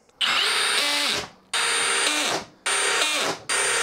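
A Milwaukee cordless drill running with its clutch set to 1, three loud bursts of high motor whine, each winding down before the next starts, close up and alone.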